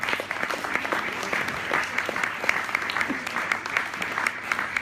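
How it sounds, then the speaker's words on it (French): An audience at a short-film screening claps steadily for the film's guests, including its director, with dense overlapping hand claps holding at a moderate, even level throughout. "On peut les applaudir."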